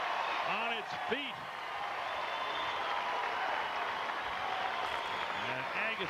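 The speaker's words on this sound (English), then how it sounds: "You will hear a roar if Agassi wins this point" A tennis crowd at the 2003 Houston final between Agassi and Roddick roars and applauds after a point. It sounds like a dense, sustained wash of clapping and cheering that holds steady throughout.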